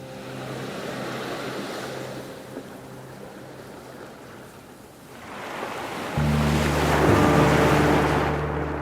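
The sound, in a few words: sea waves and surf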